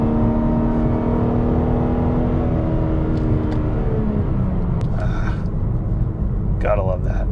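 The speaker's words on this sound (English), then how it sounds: "I can pop it into sport mode, and I can wring it out" A 2021+ G82 BMW M4 Competition in sport mode revs hard, its loud engine note climbing steadily in pitch and then easing off, with a voice speaking briefly near the end.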